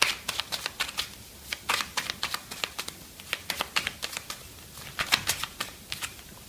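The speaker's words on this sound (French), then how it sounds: "Je vais juste tirer une dernière carte de message pour vous les balances." Oracle message cards being shuffled by hand, a quick run of crisp riffling snaps and slides in uneven bursts, close and fairly loud, with no voice over them.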